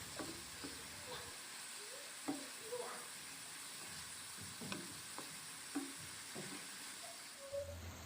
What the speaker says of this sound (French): je laisse le tout mijoter pendant 2 à 3 minutes sur feu moyen